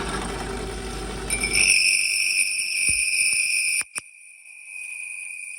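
Long boring operation cutting holes in aluminum gives a steady high-pitched whine with several sustained tones over broadband grinding noise, the low rumble dropping away partway through and a brief sharp knock near the end.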